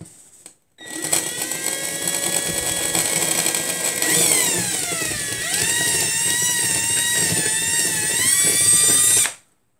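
A small electric drill bores a hole into a diorama tree trunk with a loud, continuous whine that dips and bends in pitch midway as the bit bites, then cuts off abruptly, with no talking.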